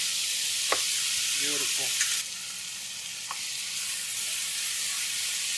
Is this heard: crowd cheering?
no